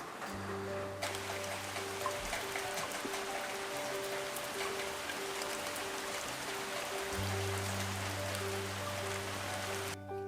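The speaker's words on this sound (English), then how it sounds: "Shall I show you how the weather looks like outside? It's raining" Steady rain falls outdoors on an autumn day, a dense continuous patter that holds evenly throughout with no one speaking, while a low tonal hum pulses in and out underneath.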